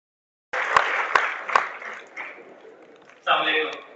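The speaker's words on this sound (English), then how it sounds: "A big round of applause." A TEDx audience at NUST Karachi breaks into steady applause that swells, fades briefly, then rises again, loud and close.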